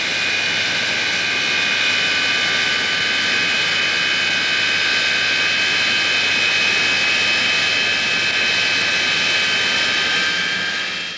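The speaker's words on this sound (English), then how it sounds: "The two Rolls-Royce Avon engines develop more power than a whole squadron of wartime bombers." An English Electric Lightning jet with two Rolls-Royce Avon engines roars steadily with a loud, continuous whine and rumble, unbroken throughout.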